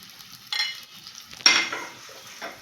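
Ginger, garlic, onion and curry leaves sauté in oil in a hot pan, giving soft sizzles and two louder bursts of stirring scrapes with quiet gaps between, and no voices.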